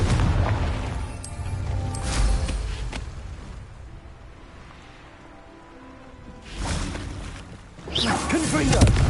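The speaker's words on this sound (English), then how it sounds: "Confringo!" Booming fire-blast explosions from the Confringo spell in Hogwarts Legacy burst loudly several times, with crackling debris and a quieter lull between the blasts.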